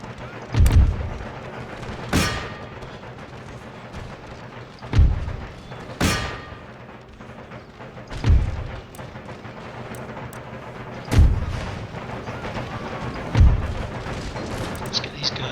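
Battle noise from the Empire Total War video game, with deep artillery booms and musket volleys thudding at regular intervals of a couple of seconds over a steady rumbling backdrop.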